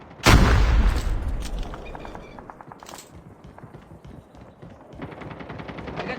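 Gunfire in the COD Mobile game during a pistol-only challenge, opening with a loud close shot and then a string of rapid, lighter pops and distant cracks over a low rumble.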